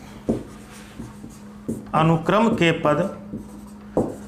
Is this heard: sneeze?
no